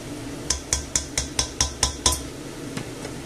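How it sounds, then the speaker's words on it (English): Frozen precooked peas being stirred into a pot of pork rib stew, heard as eight quick, evenly spaced spoon clinks against the pot, followed by a couple of softer taps. "I'm using these frozen peas which are already cooked. So I'll just stir them in."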